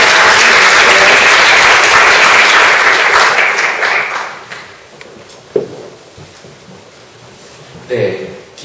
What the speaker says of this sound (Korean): 박수로 다시 한번.